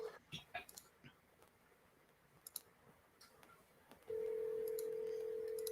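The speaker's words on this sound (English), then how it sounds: "we will triple dial this person" A phone dials a sales lead, giving faint scattered keypad clicks and beeps followed by a loud steady dialing tone that holds to the end.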